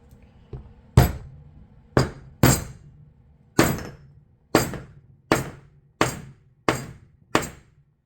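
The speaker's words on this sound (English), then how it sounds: "And then we'll hammer that guy down." Sharp hammer blows drive a wooden wedge in an uneven, steady series, about ten hits, each ringing briefly before the next.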